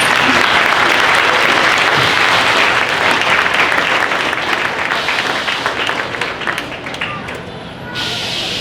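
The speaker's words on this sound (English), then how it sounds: "Let's go ahead and give her a round of applause" An audience at a county fair queen and princess coronation applauds for Madison, a dense, steady clapping that stays loud for several seconds and then thins out toward the end.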